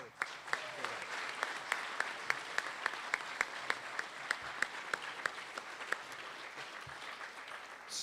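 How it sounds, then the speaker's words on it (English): Audience applause at a technology and career center completion ceremony: a sustained wash of clapping with a few sharp, regular claps standing out close by, lasting about eight seconds. "A round of applause for the automotive."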